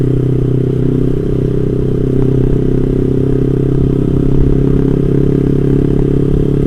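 A Yamaha GPX SS motorcycle fitted with an aftermarket R9 exhaust rumbles in a steady, loud, low drone close by, holding an even rhythm without sharp revving, and no voices are heard.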